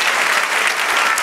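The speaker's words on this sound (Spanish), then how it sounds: "Dale otro aplauso al Señor." Church congregation applauding during a worship service, a brief, loud and dense burst of clapping from many people.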